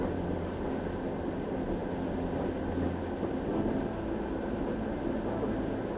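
A train rolls steadily through high mountain tea fields, a continuous low rumble and rattle of wheels on rails, loud and unbroken from start to finish.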